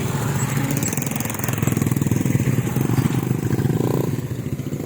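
A motorcycle engine runs steadily nearby, a continuous low rumble with a rapid chugging pulse, loud and unbroken throughout, with a brief rise in tone near the end.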